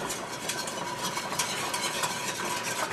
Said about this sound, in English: just going to stir it, get it mixed in, let it come back to a simmer until it gets thickened